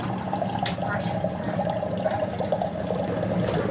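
Hot water poured into coffee cups to preheat them aboard a train in China, a steady close rushing splash that runs unbroken with no talk.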